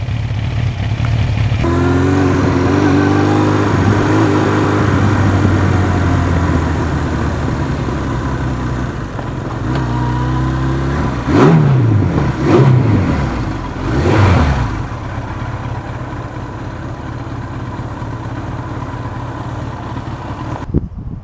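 Suzuki GS motorcycle engine on a road ride, steady loud drone heard from the saddle, with rising and falling revs as gears change partway through, plus wind rush.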